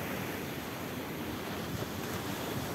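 Rough sea surf pounds a beach in a continuous loud roar mixed with gusty wind buffeting the microphone, with no voices over it.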